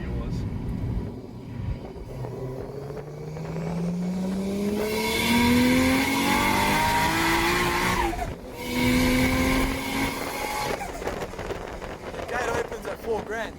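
A Nissan R34 Skyline engine, around 370 horsepower, revs hard and climbs in pitch through the gears, loud and close inside the car, with a short drop between pulls.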